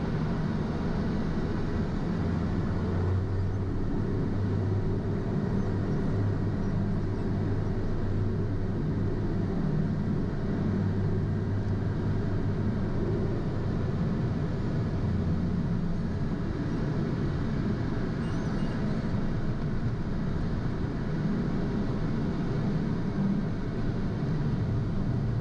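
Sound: PC-12 aircraft takeoff roll on runway 10

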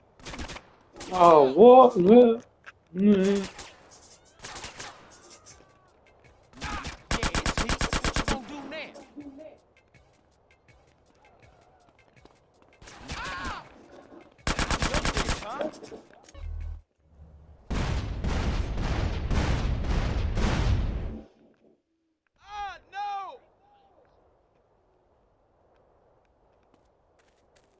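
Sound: gunfire in video game Grand Theft Auto San Andreas

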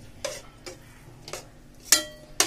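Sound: stirring coconut burfi with dry fruits in pan

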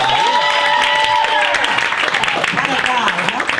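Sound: audience applause and cheering

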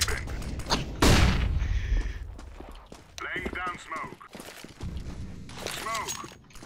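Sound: gunfire spray from Counter-Strike: Global Offensive video game

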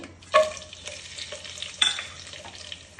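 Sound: whole spices (bay leaf, cardamom, cinnamon) frying in ghee

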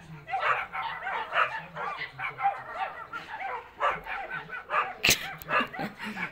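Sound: dogs barking

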